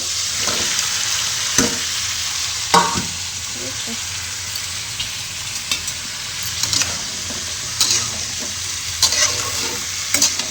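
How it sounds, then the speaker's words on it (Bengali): Potatoes frying with salt, turmeric and chilli powder in a pan, a steady loud sizzle broken by repeated scraping stirs of a spatula, with no voices. "এবার আলুটা দেবো, নুন হলুদ আর লঙ্কা গুঁড়ো দিয়ে ভাজবো"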